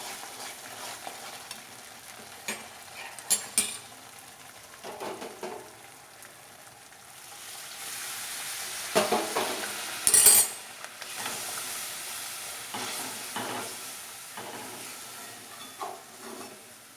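Hot water poured into fried masala in a pan for malai kofta gravy, setting off a steady close sizzle and hiss that swells midway and keeps going, broken by light stirring scrapes, with no talk.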